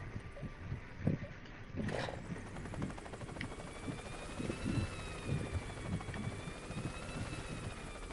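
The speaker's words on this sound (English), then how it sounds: "Hey, you got a helicopter too, though." Helicopter in the video game Worms United, a faint rhythmic rotor chop under low rumbling game sounds, with a rising whine partway through.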